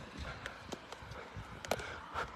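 Horse hooves clip-clop in a quiet, irregular walking rhythm on a winter street in Interlaken, Switzerland, heard faintly at a distance with no talking over them.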